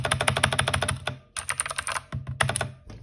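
Mechanical keyboard typed on rapidly, dense clacking keystrokes in bursts with brief pauses between runs, close and fairly loud, without speech.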